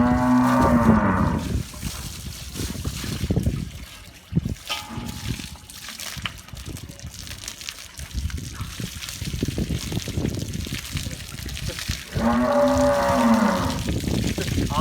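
Water buffaloes on a farm give two long, loud moos, one at the start and one near the end, with splashing and trickling water between them.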